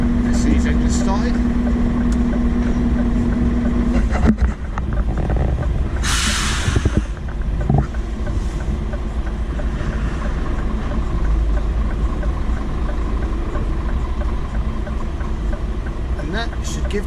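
Boat engine pulling away at a launch bay, a continuous low motor rumble with a brief hiss and clatter midway, while someone talks over it.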